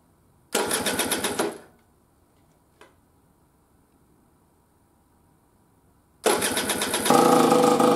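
An Aprilia RS 125 Tuono two-stroke motorcycle engine starts in a loud burst of about a second, drops to near silence with a single faint click, then fires again and keeps running strongly with a steady, raspy idle that rises toward the end.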